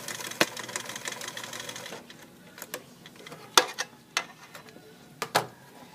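Sewing machine back stitching a pillow seam, heard as a short whirring run followed by a series of separate clicks and taps from the machine, close and moderately quiet.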